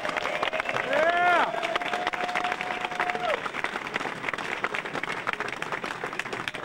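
An audience gives sustained applause for Bob Ehrlich, International Mr. Bootblack, as he takes the stage, with steady clapping throughout, a sharp whooping cheer early on and a long, shrill whistle riding over the crowd.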